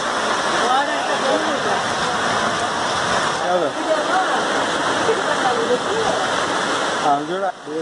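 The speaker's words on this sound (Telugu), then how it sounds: "నల్లగొండ జిల్లాలో భారీ వర్షం," Heavy rain pours steadily in Nalgonda district, a dense continuous wash of falling water that stays loud and even throughout, with a voice talking faintly beneath it.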